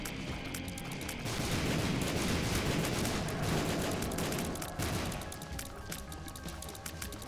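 Explosions in The Binding of Isaac: Repentance rumble and crackle in a continuous dense barrage, swelling louder in the middle before thinning into scattered pops.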